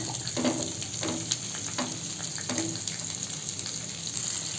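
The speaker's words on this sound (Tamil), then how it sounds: "இந்த உளுத்தம்பருப்பு கடலப்பருப்புலாம் கொஞ்சம் கலர் வர்ற வர இதை நல்லா வதக்கி விட்டுக்கலாம்" Urad dal, chana dal and onion sautéing in a pan for coriander chutney, a continuous moderate sizzle with light scraping stirs and small pops.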